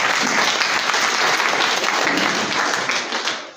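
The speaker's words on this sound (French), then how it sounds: "Applaudissez-les s'il vous plaît." Audience at a school excellence ceremony applauding honored pupils, a loud, sustained wash of many hands clapping that tapers off near the end.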